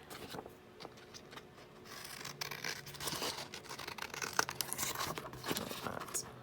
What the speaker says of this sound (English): And then we can just cut this down.